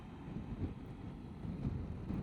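Wind buffets a motorcycle helmet while riding at night in the Andes, a soft, low, gusty rumble that swells and fades unevenly against the microphone.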